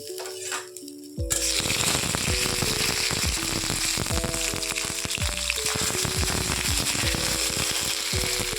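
Radhuni seeds and ginger paste dropped into hot oil for Bengali shukto burst into a loud, dense sizzle after a second of quiet, crackling and popping steadily and close up.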